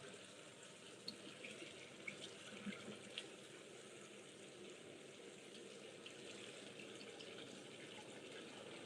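Fresh water runs steadily from a tap into a bathtub as it drains, a continuous soft splashing rush with a few small drips and no voices.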